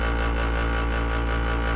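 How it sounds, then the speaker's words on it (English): Dehumidifier hum slowed far down into a deep, steady drone with strong low harmonics, holding at constant loudness throughout with slight wavering in pitch. "Next up, we have Brian Connor's dehumidifier."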